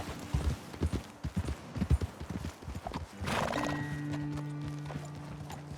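Horse hooves clip-clop at a quick gait in Red Dead Redemption 2, then slow to a halt, followed by a loud, drawn-out neigh with a whinnying tail, all close by.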